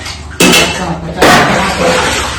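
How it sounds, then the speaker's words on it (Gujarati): Dishes and utensils being scrubbed and washed at home give two sharp bursts of clattering metal and clinks, close and fairly loud, with quieter handling noise in between. "અત્યારે હવે આપણે ઉટકવાના છે વાસણ. તો અત્યારે હું ઉટકી રહી છું."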